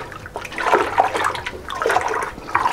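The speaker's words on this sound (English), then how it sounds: "So I'm going to give it a quick stir" Boiled water with frozen cherries stirred for mead, a churning liquid swish and splash rising and falling in two waves, close and moderately loud with no talk.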